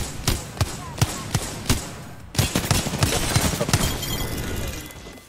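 Hemlok rifle firing on full auto in a video game, a rapid, evenly spaced string of sharp shots followed by a denser, louder volley with busy game noise underneath.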